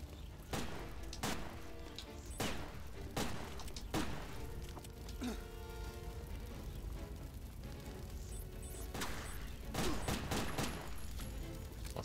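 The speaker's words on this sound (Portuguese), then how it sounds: "O cara jogou uma granada na gente." In the Sega Dreamcast game Headhunter, gunfire and a grenade blast ring out as sharp repeated shots at irregular intervals over a busy, rumbling game soundtrack, fairly quiet overall, with a dense burst near the end.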